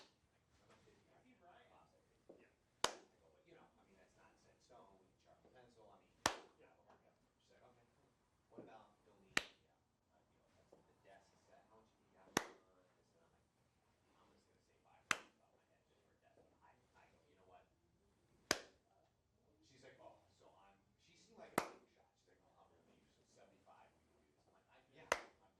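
Sharp single hand claps used for sound sync ring out about every three seconds, eight in all, crisp and close, between stretches of quiet talking.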